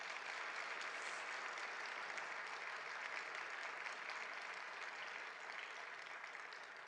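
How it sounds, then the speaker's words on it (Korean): A church congregation applauds during a Sunday service to welcome a visiting pastor, a steady wash of clapping that sounds fairly distant and quiet, with no talk over it. "여러분 박수 한번."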